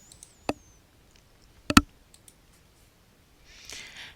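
Computer mouse clicks while working in Excel on a PC: two sharp, isolated clicks about a second apart, the second a quick double, then a soft brief rustle near the end.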